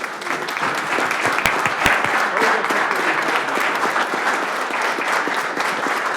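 Sustained applause from the audience at a county Board of Commissioners meeting, dense and steady clapping throughout with a couple of sharp louder claps near the start.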